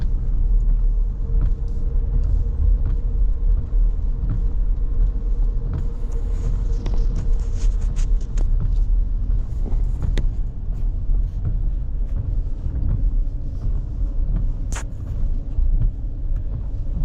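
Cars on the I-75 highway in Georgia rush past with a constant loud road rumble and tire roar heard from inside a moving vehicle, with occasional passing swells and no talk.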